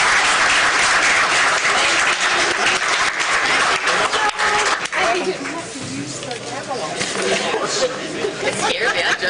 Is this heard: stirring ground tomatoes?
no